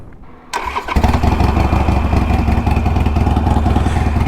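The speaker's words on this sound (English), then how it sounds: "I'll let you hear the bike start up." A 2021 Harley Davidson Iron 883 motorcycle cranks and fires up after a short quiet moment, then settles into a loud, steady, close-up idle rumble with no talking.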